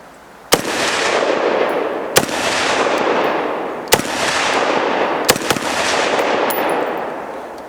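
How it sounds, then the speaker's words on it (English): CSA VZ58 semi-automatic rifle firing five shots at irregular intervals, each a sharp loud crack followed by a long rolling echo across an outdoor range. "So it's a very smooth shooting gun, lots of fun to shoot"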